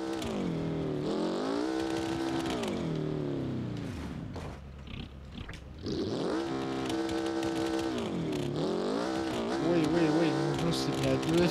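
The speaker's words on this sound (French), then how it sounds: "Le son du véhicule est très très fort." A loud vehicle engine in the survival game Raft revs repeatedly in rising and falling surges, dipping briefly midway before climbing again, with a voice talking over it.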